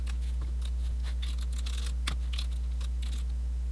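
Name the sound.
typing commands on a computer keyboard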